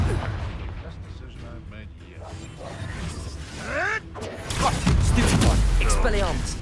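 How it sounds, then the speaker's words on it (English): Spell blasts and magical whooshes burst out in a Hogwarts Legacy battle, a sharp crackling impact near the end amid dense game effects, with a voice talking throughout. "Confringo!"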